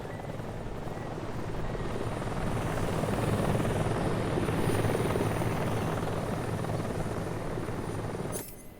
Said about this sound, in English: I was really also stressed out by that helicopter